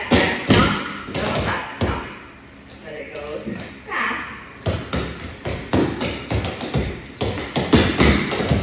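Tap dancers working through heel, knock, hop and stomp steps: a busy run of sharp metallic taps and heavier thuds in uneven bursts, close by, with a voice calling out steps over the footwork.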